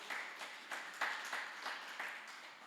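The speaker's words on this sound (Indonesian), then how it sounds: "Kasih tepuk tangan bagi Tuhan." A church congregation claps in rhythmic bursts during a worship service, faint and somewhat distant, with steady pulses repeating about every third of a second.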